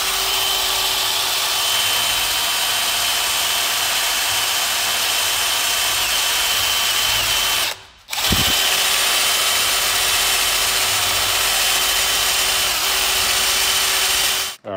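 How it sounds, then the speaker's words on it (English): A power drill runs close and loud with a constant whine, drilling out the studs on a brake booster plate. It stops once briefly midway, then starts again and runs until a final cutoff, with no voices. "we got the studs drilled out"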